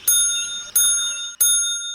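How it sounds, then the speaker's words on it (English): A hollow log bell rings three times at a steady pace, each a bright metallic strike with a long ringing tone that decays before the next, heard alone and close. "rang the hollow log bell."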